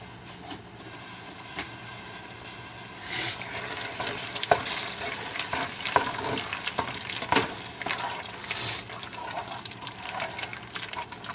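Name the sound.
stirring pepper mac and cheese in a pot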